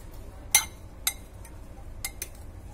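Karonda being mixed with salt and turmeric, a few sharp clinks of a spoon against a bowl, close and spaced irregularly over a quiet background.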